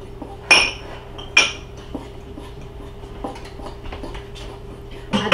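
Cassava flour and onion powder are mixed in a bowl, giving a few sharp utensil clinks against the bowl followed by lighter scraping and tapping, close and clear, without speech.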